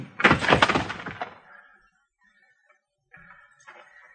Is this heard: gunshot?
yes